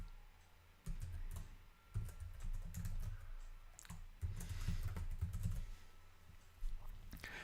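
Fingers type a template name on a computer keyboard, bursts of quiet clicking keystrokes separated by short pauses, close and soft with no voices.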